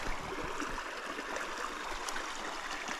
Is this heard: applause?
no